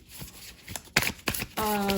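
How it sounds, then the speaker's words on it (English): Tarot cards being shuffled by hand, a few quick riffling bursts close up, ending in a sustained flurry of card noise. "so I'm just gonna shuffle again."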